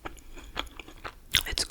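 Close-up chewing and biting of a Dunkin' donut, with soft crunchy bites in a few quick bursts, the loudest toward the end, and no talking.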